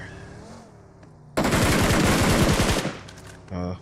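Squad gunfire in an esports battle royale match: a loud, dense burst of rapid automatic fire lasting over a second, with a brief pause before a short final shot.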